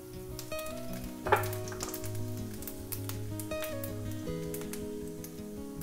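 Cumin seeds hit a generous amount of hot oil for a yellow dal tadka, giving a steady close crackling sizzle with a brief louder burst early on, alone without talk.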